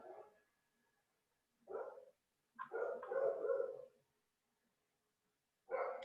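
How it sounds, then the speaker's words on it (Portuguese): Dogs bark in separate bursts, a few yaps followed by a longer run of barking, quiet and a bit distant, with silences between. "Eu sei que as minhas cachorras estão latindo também."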